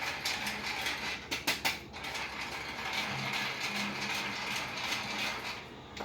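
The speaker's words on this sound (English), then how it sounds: "So you sift your flour out so you got it nice." A hand-crank sifter works flour for homemade buttermilk biscuits, giving a steady close ratcheting, clicking whir throughout, with a few louder clacks near the start.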